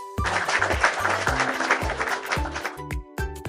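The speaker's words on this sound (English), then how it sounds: "Let's clap for ourselves." Brief bursts of clapping sound effect in a children's pastel colours learning cartoon, set over a bouncy tonal music track and ending with a few short musical stabs.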